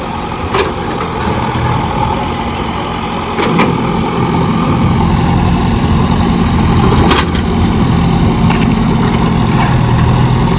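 A JCB excavator sits in canal water with its diesel engine idling steadily and loudly close by, a constant low throb broken by a few brief clanks.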